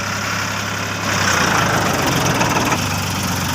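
A tractor engine runs steadily nearby, a continuous low idling rumble with a slight knock that grows a little louder partway through, with no voices.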